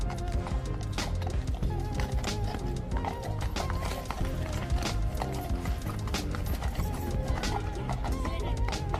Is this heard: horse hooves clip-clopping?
yes